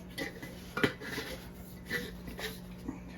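A teaspoon of Arm & Hammer baking soda tipped into a bowl of cookie dough ingredients: a couple of soft metallic clinks and a light scrape, quiet and close, with a low steady hum behind.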